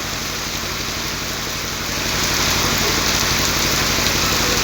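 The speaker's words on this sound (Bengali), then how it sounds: "দেখুন কি সুন্দর বৃষ্টি হচ্ছে" Steady, heavy rain falls in a dense hiss that swells slightly louder partway through, with a low engine-like hum running underneath.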